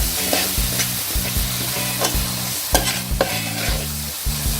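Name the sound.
stirring and sautéing tomato onion paste in oil for fish curry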